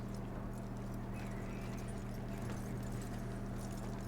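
Horse hooves clip-clopping at a steady pace in the video game Red Dead Redemption 2. The hoofbeats are soft and sit under a constant low hum and ambient wash.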